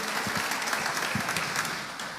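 Church congregation applauding during a Spanish-language Baptist service, a brief burst of clapping heard alone and fading slightly toward the end.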